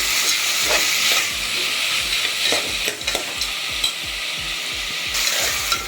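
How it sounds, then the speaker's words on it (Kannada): Vermicelli fries with a steady bright sizzle in a pan while a spoon stirs it in rhythmic scraping strokes, close up and continuous, with no voices. "ಚೆನ್ನಾಗಿ ಇದನ್ನು ಫ್ರೈ ಮಾಡೋಣ."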